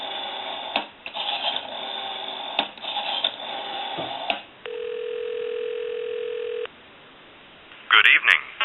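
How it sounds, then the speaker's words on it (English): A steady dial tone from a Western Electric Princess telephone broken by a series of short touch-tone dialing beeps, then a long flat tone and a few more tones at the end. "give you some dial tone."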